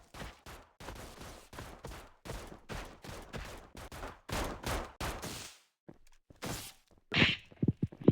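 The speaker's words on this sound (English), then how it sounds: "He was shooting a pistol." Pistol shots fired in a rough outdoor confrontation, a rapid series of sharp cracks in bursts over several seconds, then a pause and a few louder, closer reports at the end.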